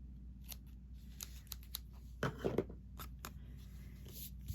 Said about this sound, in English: And then I'll trim off my edges so they don't go beyond the size of the